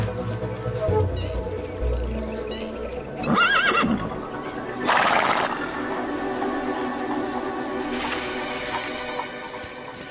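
Camargue horses neighing in the wild, with two loud whinnies a couple of seconds apart and a fainter call later, over a constant outdoor background rumble.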